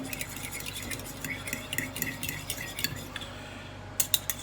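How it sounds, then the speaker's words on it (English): A meatball mixture with milk is stirred in a bowl, giving soft irregular clinks and scrapes of a utensil against the dish, close and fairly quiet, with a few sharper taps near the end. "Now we're going to mix this up."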